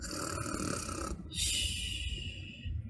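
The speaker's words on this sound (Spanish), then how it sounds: "Sobre una abuela llena de ronquidos." A grandmother snores in a sleepy house, two rough, breathy snoring breaths in steady sequence, close and fairly quiet, with no talking.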